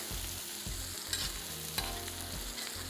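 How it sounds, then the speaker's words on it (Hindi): Tomato paste masala fries on a tawa griddle, a steady close sizzle with rhythmic scraping strokes of a spoon about every half second, alone with no voices. "बड़े एहतियात से आपने इसका मसाला जो है वो भून लेना है ताकि तवे से बाहर ना जाए"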